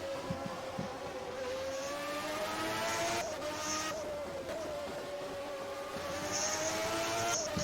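Formula 1 race cars lapping the Portuguese Grand Prix circuit in the rFactor racing game, engines whining and shifting pitch as they pass in close succession, loud and continuous with no voices over it.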